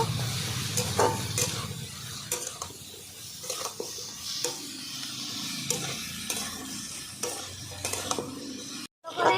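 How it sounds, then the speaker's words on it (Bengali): Spices, salt and chili powder being stirred and sautéed in a pan over a village cooking fire, a steady soft sizzle with repeated scraping stirs of a spatula, close and continuous with no talk. "লবণ হালকা করে দেবে একটু লঙ্কার গুঁড়ো ভালো করে কষিয়ে নেব"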